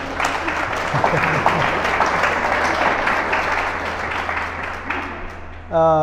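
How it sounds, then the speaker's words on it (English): Audience applause at a panel discussion with three glass artists, a sustained wash of clapping at moderate volume that ends with a short spoken voice. "Applause. Applause is good."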